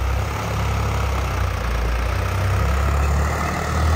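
A Swaraj 744 FE tractor engine runs out in a farm field, a loud, steady low diesel rumble that holds even for several seconds with no voices.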